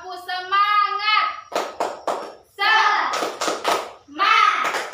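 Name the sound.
children doing a rhythmic spirit clap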